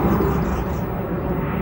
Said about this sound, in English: A lot of planes passing by.